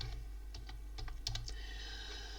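Keys on a computer keyboard are tapped while an archive name is typed: a handful of soft, irregular clicks over a low steady hum, faint and close.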